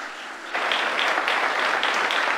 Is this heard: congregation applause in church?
yes